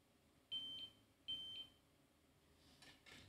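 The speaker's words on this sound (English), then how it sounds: "we heard a few beeps and there is nothing happening right now" Two short electronic beeps from a Pentium Pro computer board, each a steady tone with a brief second pip, spaced under a second apart, followed by faint clicks near the end.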